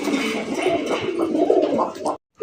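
A fancy pigeon, a German shield crossed with a golla, coos in a close, steady, throaty burr for about two seconds before falling silent.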